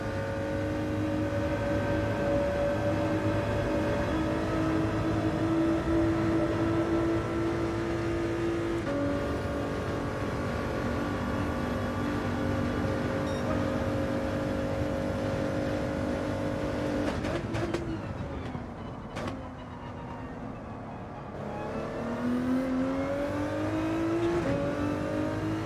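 Race car engine in Gran Turismo 7 on a racing circuit, a loud sustained drone with rising and falling revs through gear shifts, steady and close throughout.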